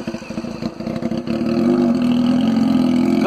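Honda CBR 600F motorcycle with a straight exhaust pipe revving near the edge of a track, choppy throttle blips building into a loud, sustained high rev that holds steady.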